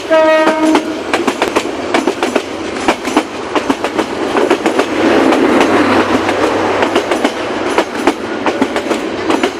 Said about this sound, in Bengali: সামনে একটা ট্রেন আসতেছে